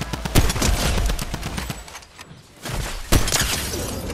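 Fortnite duos match gunfire: fast, loud bursts of shots crackle close by, ease off briefly near the middle, then return with a sharp volley, and no one speaks over them.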